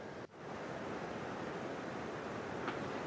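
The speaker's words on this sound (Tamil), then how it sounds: "ஒகேனக்கல் அருவியிலும் தண்ணீர் ஆர்ப்பரித்து கொட்டுகிறது" Water roaring down the Hogenakkal waterfall on the Cauvery, a dense, continuous rushing roar that stays steady throughout, with a brief dip near the start, no voices.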